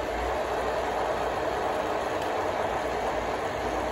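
A Carrera slot car pickup truck drags Lionel toy train cars along the track, producing a continuous, loud, even whirring and rolling rumble that holds steady throughout, with no talking.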